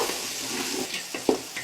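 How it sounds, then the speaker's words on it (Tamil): Mint leaves sautéing with onion and tomato in a pan while making chicken biryani, a soft steady sizzle and hiss with a few brief stirring scrapes, close and alone without talk. "புதினா சேர்த்து நல்லா ஒரு வதக்கி விடுங்க."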